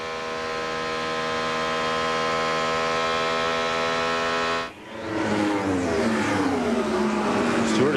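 IRL Indy race car engines scream at speed in a 1997 Charlotte race, one sustained high-pitched whine cutting off sharply, then a rush of passing cars with shifting, sweeping pitches.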